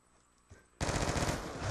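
Sustained automatic gunfire erupts in Call of Duty: Black Ops 2, a dense loud rattle that starts abruptly after a brief quieter moment and continues without pause.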